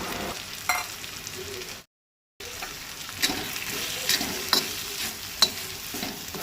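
Grated coconut frying and being stirred in a pan gives a continuous sizzle with repeated scraping strokes, broken by a short silent gap, and no one speaks.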